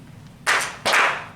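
Two sharp claps from a classroom of students, spaced under half a second apart, each bright and loud with a short ringing tail, over quiet room tone.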